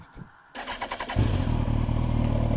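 A Kawasaki ZX10R motorcycle starts up close by: a short whirring starter crank, then the engine catches and settles into a loud, steady idle rumble.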